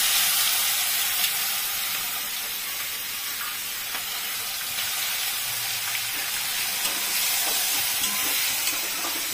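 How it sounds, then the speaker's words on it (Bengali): Four or five garlic cloves sizzle while being tempered in hot oil, a steady bright hiss that carries evenly for several seconds, fairly faint and with no talk. "এখন আমি অল্প একটু এই 4-5 কোয়া রসুন ফোড়ন দিচ্ছি"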